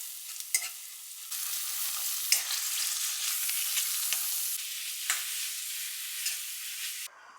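Spices with turmeric, chili and cumin sautéing in a pan, a steady close sizzle broken by a few clicks and scrapes of stirring, with no one talking over it.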